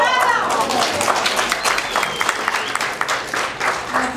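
Dense audience applause at a film premiere fills the whole stretch, loud and steady with crowd noise mixed in.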